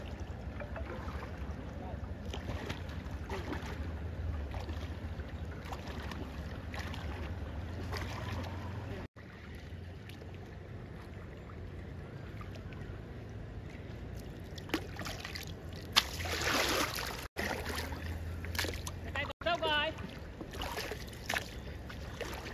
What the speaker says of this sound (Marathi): अरे आपली होडी लागली इकडे